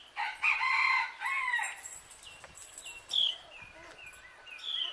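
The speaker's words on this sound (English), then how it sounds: "They don't crow like that till I come out here and start filming." Rooster crowing in a backyard, a loud crow up front, then a second call and several fainter crows further off, with quieter clucking between them.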